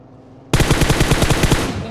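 Automatic gunfire from a survival shooter video game bursts in suddenly after a quiet moment, with a loud, rapid, evenly spaced stream of shots that continues for the rest of the clip.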